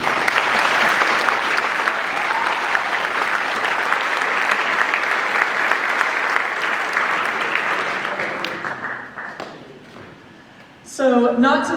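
A crowd at a community celebration in Great Falls applauds loudly and steadily for several seconds before the clapping tapers off, and a voice speaks briefly at the end.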